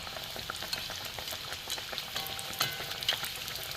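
Kachori cooking in hot oil, a steady close-up sizzle and crackle with scattered pops and the occasional stir, all of it continuous and without any voices.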